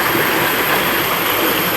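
A forest stream flows nearby in a loud, dense and continuous rush of water that stays steady throughout, with no voices over it.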